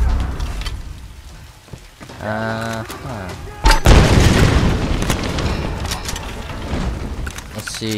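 A grenade launcher blast in the Tomb Raider video game: one heavy, close boom bursts out mid-clip and gives way to a dense crackling, rain-like rumble, with voices speaking in the moments before.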